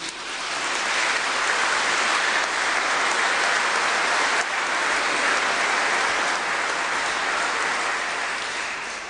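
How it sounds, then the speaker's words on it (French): A church congregation at Église St Pierre d'Arène in Nice applauds the singers after a hymn, dense steady clapping from a large crowd, loud and sustained with no talk over it. "on les applaudit."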